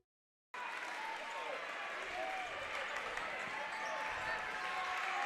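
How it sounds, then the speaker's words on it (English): Fans at a high school girls basketball game in North Ridgeville stomp and cheer, a sustained rumbling crowd noise that starts abruptly after a brief silence and stays loud throughout. "EC fans, they're stomping, they're making noise"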